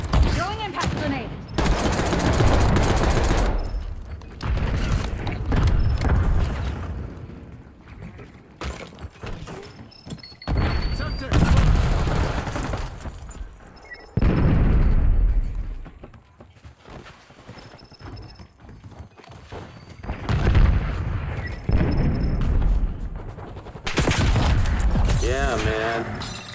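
Impact grenades and gunfire in a military shooter video game: loud, dense broadband blasts and rattling bursts that repeat in long stretches, broken by brief quieter gaps.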